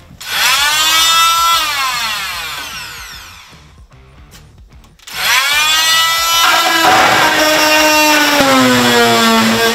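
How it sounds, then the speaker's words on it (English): A loud power drill drilling out rivets in a vintage camper, whining at high speed, its pitch sagging and recovering under load, pausing briefly midway before starting up again and running steadily. "I'm sure there's rivets that I need to drill out"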